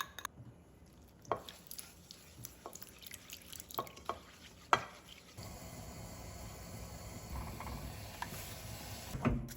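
A spoon works a glutinous rice flour paste in a pot: scattered taps and scrapes at first, then a steady, soft, close stirring texture with occasional knocks; no talking.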